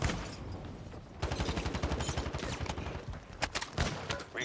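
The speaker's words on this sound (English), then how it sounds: "these dudes still shooting at us?" Rapid bursts of automatic gunfire in a shooter video game, dense and loud, with volleys of shots in quick succession and a few sharper single cracks.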